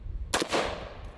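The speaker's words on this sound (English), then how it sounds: "Let's take a few shots with it first at that can of taco meat." An AR-15 rifle chambered in 5.56 with a 20-round magazine fires at a can of taco meat, one sharp crack followed by a brief echo and a fainter second report.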